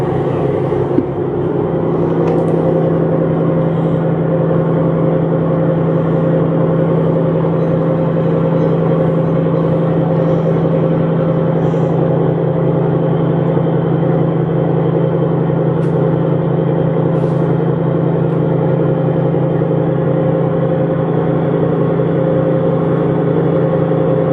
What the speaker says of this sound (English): engines sound good